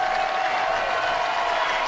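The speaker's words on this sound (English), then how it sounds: "And a big round of applause for one of their talented linemen, Landon Seib" Crowd at a high school state championship football game applauding and cheering, a steady wash of clapping and voices from a large stadium audience, loud and continuous throughout the short stretch.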